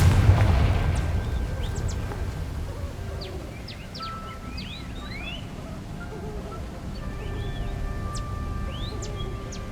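A Confringo fire spell bursts in Hogwarts Legacy with a loud low boom at the start, then a rumbling crackle that fades over several seconds beneath ambient whistling and chirping effects.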